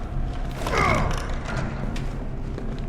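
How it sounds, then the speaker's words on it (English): A door-unlocking mechanism in the survival horror game Resident Evil 3 Remake clicks and creaks, with a ratcheting, grinding sweep near the middle and lighter mechanical clacks after it, close and clear. "Unlock the door."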